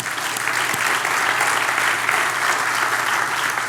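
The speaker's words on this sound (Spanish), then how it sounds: "¿Puedes dar un aplauso al Señor?" Sustained applause from a church congregation during a Christian meeting, a dense, even wash of many hands clapping at once that holds steady from start to finish.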